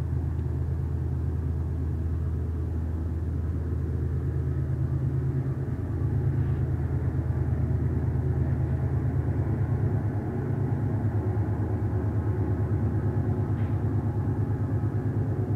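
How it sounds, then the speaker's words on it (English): A train passes nearby with a steady low rumble and droning engine tone that holds for the whole stretch, swelling slightly in the middle before easing, with no voices present. "I thought it was a truck. It's actually another train."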